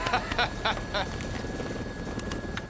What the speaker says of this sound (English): Frank leaps out of his helicopter onto the roof of the Willamette Mall